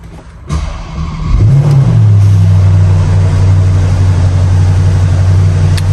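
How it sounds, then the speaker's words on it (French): A Porsche Panamera GTS with a 4-litre V8 cold-starts: a quiet moment, then a sharp cranking flare that surges and settles into a loud, steady, deep idle rumble with its exhaust flap closed. "on va démarrer le 4 litres V8"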